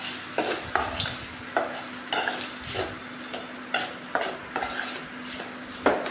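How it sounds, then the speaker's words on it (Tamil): Rice being stir-fried in a pan for a simple tempered rice dish, with repeated scraping and clinking strokes of a spoon over a constant close sizzle. "கைவிடாமல் ஒரு அஞ்சு நிமிஷம் நம்ம கிளறி கொடுத்துக்கிட்டே இருக்கலாம்"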